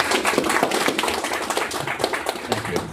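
Audience at an Austin On Rails meetup clapping in applause, a brisk spatter of many hands for three seconds with a voice or two mixed in.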